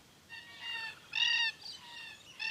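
Bird calls in bushland near Harvey in Western Australia, where red-tailed black cockatoos live: several harmonic chirping calls, fairly faint at first, with a louder burst in the middle and another call starting at the end, with no talking.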